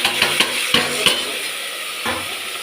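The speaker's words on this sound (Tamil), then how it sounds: "இனிமேல் அரைச்சி வச்ச இஞ்சி பூண்டு பேஸ்ட்டையும் இதோடு போட்டுப்போம்." Meat being stirred in a pot with ginger garlic paste, several scraping strokes of a spoon against the pot over a steady frying sizzle, close and clear with no talk.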